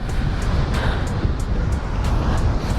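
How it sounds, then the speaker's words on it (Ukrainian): Strong wind blows across the sand dunes of Fuerteventura in Spain, a steady broadband rush buffeting the microphone with low rumble. Faint intermittent ticks sound over the continuous roar, and no one speaks. "Там взагалі сильний вітер, тут трошечки менше"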